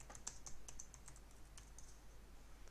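Typing on a computer keyboard: quick, irregular, faint keystroke clicks over a quiet background, with no voices.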